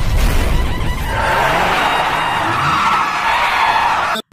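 Car skidding in GTA San Andreas: a loud continuous tire screech and rushing engine noise lasting several seconds, close and dominant, ending abruptly.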